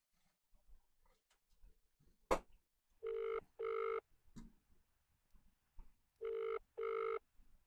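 A phone rings in the Conscience video game, sounding two pairs of clear electronic double rings separated by a pause, loud and isolated amid faint clicks and a sharp knock.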